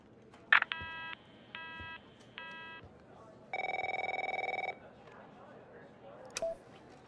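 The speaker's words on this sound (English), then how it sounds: "My phone's ringing off the hook here." Telephone ringing in the video game The Operator: three short electronic ring bursts, then a longer steadier ring tone, clear and close with brief clicks around them.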